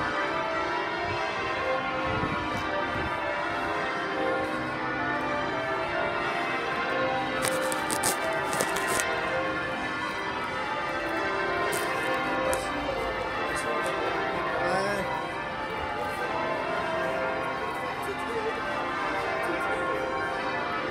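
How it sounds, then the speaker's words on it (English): A peal of 12 church bells rings out at St Mary-le-Bow, a fairly faint, distant and continuous wash of overlapping tolls heard outdoors over steady background noise. "that is a peal of 12 bells."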